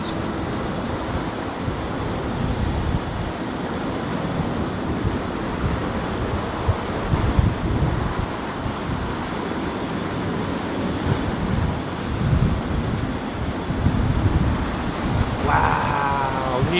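Strong gusty wind roars and buffets the microphone at London Heathrow Airport during aircraft arrivals, a loud continuous rushing with a few louder gusts and faint voices at the end.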